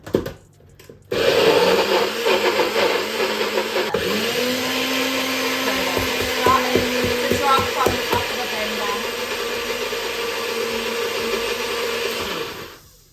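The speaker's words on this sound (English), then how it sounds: "This is the most loved NutriBullet. I must have had it for 5 years, and trust me, it gets used a lot." A NutriBullet blender, about five years old, grinds oats for banana bread protein baked oats, a loud steady whirring motor roar that runs about eleven seconds with a rattling, churning texture, then cuts off.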